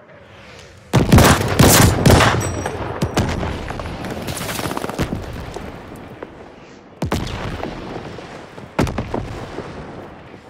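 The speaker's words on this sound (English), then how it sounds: "Allies calling a mortar barrage." Booming blasts from a mortar barrage in the Call of Duty: Vanguard video game: a dense, loud cluster of impacts followed by two more separate heavy explosions, over continuous rumbling battle noise.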